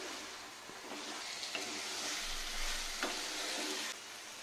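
Potatoes stirred and frying in a pan for spicy alur dum, a steady close sizzle with a few soft scrapes of the spoon through the pan, no talking.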